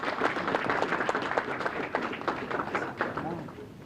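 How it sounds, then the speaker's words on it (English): Audience applause at a Black veterans appreciation brunch, a steady wash of clapping hands that holds for several seconds, with voices mixed into the crowd noise. "Let's give him a round of applause one more time."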